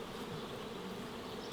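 A dense, steady drone of many honey bees buzzing around an open hive during queen-rearing work, close and continuous with no voices.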